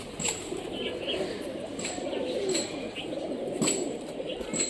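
Local flying pigeons in Rajshahi coo in soft, repeated low calls, with brief bursts of wing flapping, all close by over faint background chatter.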